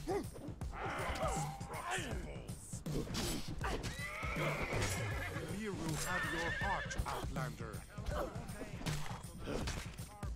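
A horse in the survival game Conan Exiles whinnies repeatedly amid a fight, with hoof clatter and sharp impacts, while a person talks over the commotion.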